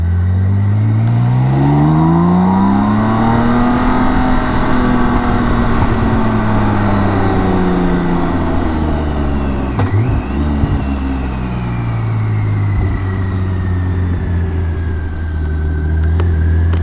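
A BMW K1600 GTL motorcycle rides off with a loud, smooth engine drone that rises through the gears and holds steady at cruising speed, with wind rushing past.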